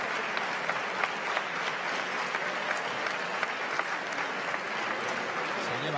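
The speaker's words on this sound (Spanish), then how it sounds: "Se lleva la ovación Nicolas Echetó." Spectators at the 2018 Cesta Punta World Final give player Nicolas Etcheto a sustained ovation, a steady wash of crowd clapping with scattered sharper claps, continuing evenly with no voices over it.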